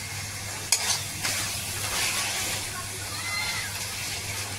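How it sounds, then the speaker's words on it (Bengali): Spice paste stirred and sautéed over raised heat in a home kitchen pan gives a steady close sizzle with a few sharp scraping stirs early on and a low hum underneath. "এবার একটু হিট দিয়ে মশলাটাকে একটুখানি কষিয়ে নেবো হালকা করে।"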